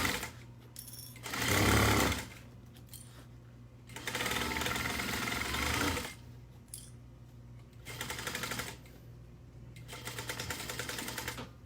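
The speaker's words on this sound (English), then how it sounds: "My stitch is at a 3. Back stitching," A sewing machine back stitching a seam at stitch length 3 runs in several short bursts separated by pauses, its rapid mechanical whirr loud and close, with no one speaking.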